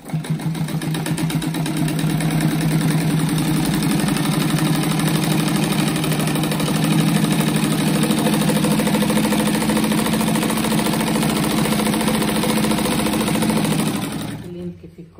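A sewing machine runs steadily, stitching a seam on a handmade patchwork rug; the motor hums continuously at an even pace for about fourteen seconds before stopping abruptly at the end.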